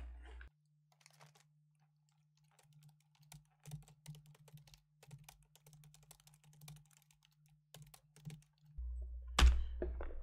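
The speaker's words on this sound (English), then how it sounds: "I'm going to begin to type into the text box now what I said in the first line." Light, steady typing on a computer keyboard, a run of soft quiet key taps over a low electrical hum, ending in a louder thump and a burst of noise.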